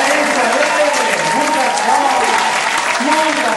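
Studio audience at a Canoas, Rio Grande do Sul television show applauding a music duo; a sustained, even wash of many hands clapping, with a presenter's voice talking over it.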